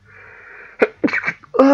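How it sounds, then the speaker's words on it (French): A single loud, close sneeze with a sharp burst, followed by a short voiced exhale or exclamation. "Oh, j'ai éternué et dit ça"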